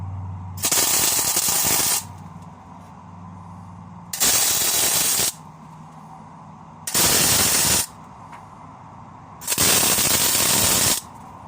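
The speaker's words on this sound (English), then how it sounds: "I'm just going to put some tacks on and just tack it in place where it wants to be" Tack welding a new spring hanger onto a corroded trailer, four separate loud crackling arc bursts of about one to two seconds each, separated by quieter humming gaps.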